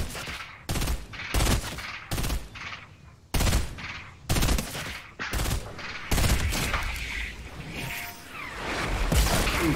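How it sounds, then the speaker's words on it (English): Rocket launcher and other weapons firing in a duos match in a video game, a rapid series of loud sharp blasts and bursts at irregular intervals with rumbling tails, close and dominant. "someone just fucking shot a rocket launcher at me from behind us"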